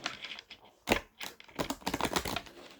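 Oracle cards being shuffled by hand, a close series of quick papery clicks and riffles in irregular bursts, with no talking.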